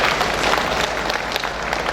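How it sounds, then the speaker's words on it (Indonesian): Hall audience at the opening of the Malang Batik Festival bursts into dense, continuous clapping, steady and fairly loud throughout, with a faint low hum beneath. "Tepuk tangan UMKM."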